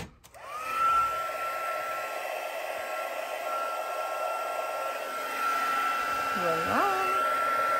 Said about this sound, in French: On chauffe jusqu'à temps qu'on voit se transformer la poudre.